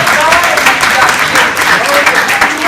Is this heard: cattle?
no